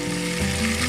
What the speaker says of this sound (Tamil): தக்காளி வதங்கிட்டு இருக்கு.